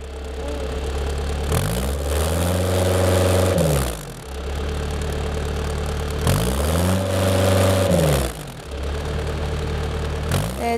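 A farm machine's engine running while its exhaust is checked: a steady mid-pitched idle that twice swells into a rising, falling rev before dropping back, loud and close, with no talk.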